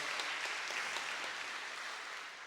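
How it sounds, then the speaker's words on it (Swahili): A church congregation claps through a sermon in a dense, sustained round of applause, fairly distant and even, tapering off slightly toward the end. "Hayo makofi hayatoshi, upige sawa sawa"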